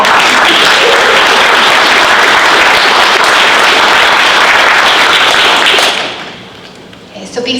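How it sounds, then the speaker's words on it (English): An audience at a university venture competition claps loudly for the judges, a dense, intense wall of applause lasting about six seconds before quickly dying away. "So please help me in thanking our judges and give them another round of applause."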